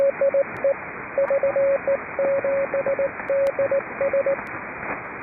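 A CW Morse code transmission over amateur radio on the 80 m band near 3729 kHz, heard as a steady, clear, fairly loud single-tone series of dots and dashes through a band-limited receiver, with faint static between characters and no voices.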